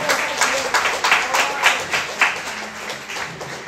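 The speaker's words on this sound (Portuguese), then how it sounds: "Dê uma salva de palmas ao Senhor." A church congregation clapping together for the Lord during a service, a dense rhythmic round of applause with regular beats that stays fairly loud and close, with a voice speaking under it.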